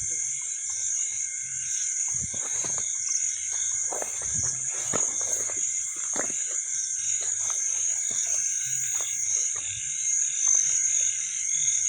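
A dense chorus of frogs croaking and trilling in a wet rice field at night, continuous and loud, with insects shrilling alongside and occasional nearby footsteps or rustles.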